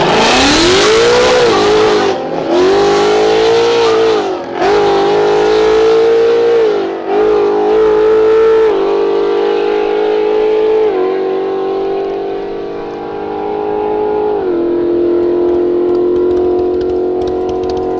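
Loud engines of an Audi and a Mustang roar and rev up together at a race start, pitch climbing then holding steady as they accelerate away, a continuous droning wail with no talking.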